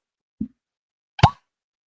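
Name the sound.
cork popping out of a tequila bottle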